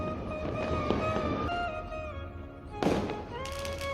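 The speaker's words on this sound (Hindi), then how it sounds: "ये देख सकते हैं लोग कितने सारे पटाखे फोड़ रहे हैं।" Diwali firecrackers crackle and pop repeatedly in the distance, with a sharp louder burst of bangs near the end, over steady background hum.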